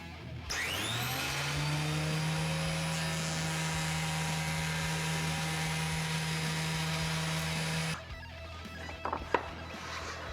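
A thickness planer feeds a wooden board through, its motor starting with a rising whine and holding a loud, steady roar with a strong low hum for about eight seconds before cutting off, followed by a few faint knocks and clatters in the workshop.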